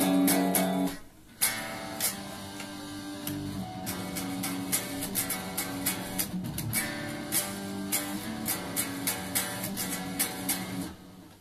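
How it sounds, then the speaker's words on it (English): A distorted electric guitar plays the intro to a song, one chord struck repeatedly in a driving rhythm after a brief pause, loud and alone. "they're just doing the same chord again but with the distortion on, so it would sound altogether a bit like this"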